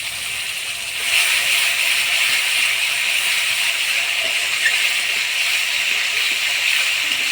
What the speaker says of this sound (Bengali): সরষাটা ফোড়নের তেলে হালকা কষে নিলাম